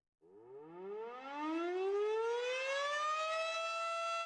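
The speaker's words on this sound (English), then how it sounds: "It's getting close to that time of the year where sirens warn people outside of approaching severe weather." An Outagamie County civil defense tornado warning siren winds up from a low growl to a sustained high wail, heard alone and somewhat distant.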